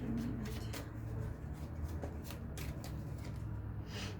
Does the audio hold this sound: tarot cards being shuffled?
yes